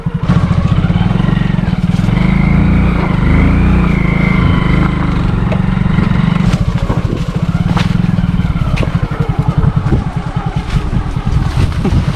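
A motorcycle rumbles steadily during a New Year picnic ride, its engine drone loud and close with heavy wind buffeting the whole time and a faint voice now and then.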